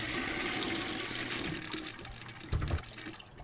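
A toilet flushes in a horror video game, a rushing gurgle of water that swells, then drains away with a brief thud near the end.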